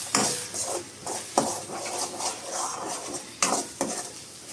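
A spoon stirs onion egg curry with fresh coriander in a pan, sounding as repeated scraping strokes and metal clinks over a light sizzle at close range.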